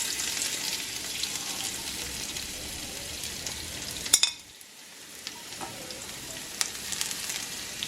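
Chopped garlic sizzling in hot oil with browned cumin seeds in a pot, a steady crackling fry with stirring scrapes, a sharp hiss burst as the garlic drops in, then a quieter sizzle building back.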